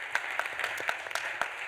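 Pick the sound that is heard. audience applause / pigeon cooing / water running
audience applause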